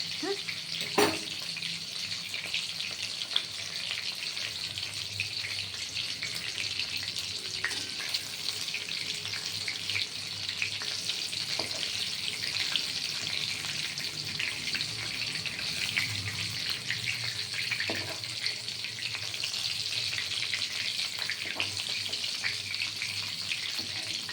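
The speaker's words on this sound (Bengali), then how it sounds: "ঘুরিয়ে ফিরিয়ে চারপাশে এইভাবে লাল করে ভেজে নেবেন" Cubes of paneer shallow-frying in a pan until browned, a continuous soft sizzle with faint occasional clinks, no talking.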